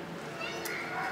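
A long-haired cat in a shelter cat room gives a short meow, close by, while a person speaks softly to it.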